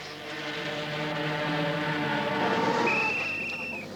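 Yamaha V4 500cc Grand Prix racing motorcycle engines drone together in a steady, loud multi-engine roar, with pitch rising as they rev, then a higher whine sweeps in near the end.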